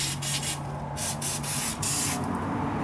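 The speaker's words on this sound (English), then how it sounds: "I'm going to spray where the cable comes out of there, and this will absorb in there too and hopefully loosen things up" Penetrating lubricant sprayed from an aerosol can onto the parking brake cable of a Dodge Dakota during rear brake and rotor work: a close, continuous hissing spray with a few brief pauses.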